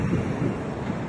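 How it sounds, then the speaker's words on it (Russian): Strong gusting wind on the shore of a stormy sea in Odesa, a dense, steady low roar buffeting the microphone with surf rumbling underneath, loud and continuous. "вот только что не было ветра, смотри, как задуло"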